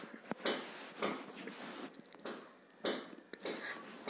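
Garlic, ginger, green chilli and onion being chopped on a board in a home kitchen, giving a series of close, crisp knife taps in short bursts with pauses between them.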